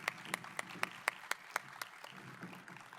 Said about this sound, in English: You deserve a big round of applause.